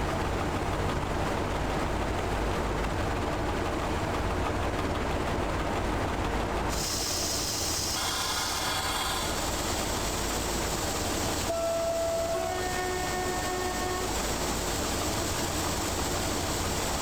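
A train running in the video game Train Driver 2: a steady, loud rolling rumble with engine drone, shifting partway through into quieter running with faint high tonal whines.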